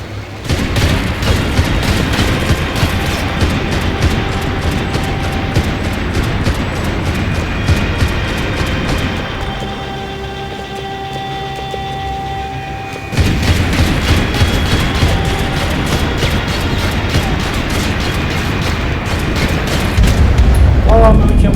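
Gunfire and explosions in the video game Max Payne, a dense continuous barrage of booms and shots with a brief lull mid-way, loud throughout with game sounds layered over it.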